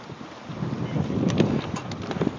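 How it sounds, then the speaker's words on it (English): Wind and big waves rolling against a sailboat a few miles out from White Lake, a steady broadband rush of wind noise with swelling water surges building toward the middle, loud and close to the microphone. "It's big old waves that are coming in."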